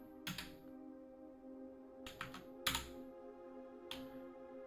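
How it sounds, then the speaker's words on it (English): Typing on a computer keyboard, a few short bursts of quick clicking keystrokes separated by pauses, faint over a steady tonal background hum. "Why am I having such a hard time typing this?"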